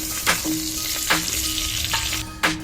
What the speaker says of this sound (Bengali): এবার আলুগুলো আমি একটুখানি ভেজে নেব